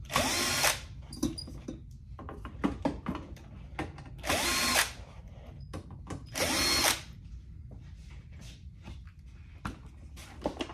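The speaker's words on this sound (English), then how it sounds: "I'm using a drill" A power drill whirs in three short bursts as it backs screws out of the side of a Rane One DJ controller, with small clicks, taps and handling noises between the runs.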